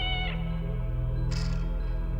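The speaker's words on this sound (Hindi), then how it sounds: "ये बिल्ली की आवाज कहाँ से आ रही है?" A cat meows twice, with a short cry followed by a longer higher-pitched meow, over a steady low hum in the background.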